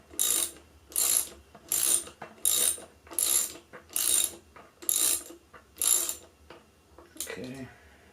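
Ratchet wrench tightening the brake rotor bolts on a Ride1up Revv1 e-bike, heard as eight loud, evenly spaced bursts of rapid clicking, each about half a second long, followed by a short softer clatter at the end.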